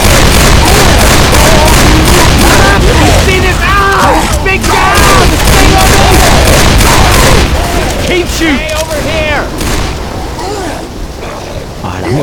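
Dense bursts of gunfire and booming blasts in Left 4 Dead 2, loud and nearly continuous, with rapid repeated shots and explosions layered over each other.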